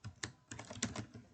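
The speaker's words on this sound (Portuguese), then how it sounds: "vou digitar calcular" Typing on a computer keyboard while coding an Android app: a short run of distinct key taps, close and clear, with no talking.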